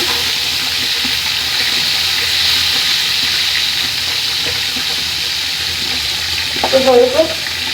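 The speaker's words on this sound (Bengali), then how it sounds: "এখন আমি মাংসগুলি দিয়ে দিচ্ছি। একটা হয়ে গেছে। তারপরে সবগুলো মাংস দিয়ে দিলাম।" Chicken pieces for a chicken bhuna frying in a pan, a loud continuous hiss and sizzle with a brief rattling stir near the end.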